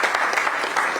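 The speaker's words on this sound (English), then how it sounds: "A round of applause for Celine." Audience applause for Celine at an EU climate diplomacy event, a dense, continuous patter of many hands clapping in a room.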